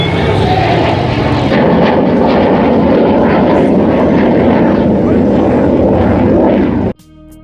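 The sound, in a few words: military jet accelerating into near vertical climb at airshow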